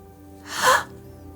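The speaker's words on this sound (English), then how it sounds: "You gasp as you peer inside the tomb." A single sharp gasp, a quick startled intake of breath, rises briefly in the middle of a quiet moment, close and clear.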